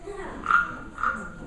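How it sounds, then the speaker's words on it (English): A stick rubbed across the ridges of a wooden frog guiro gives two short raspy croaking strokes, close and moderately loud, in a quiet room. "I'm going to rub a stick across the ridges and let's see if we can make it sound like a frog."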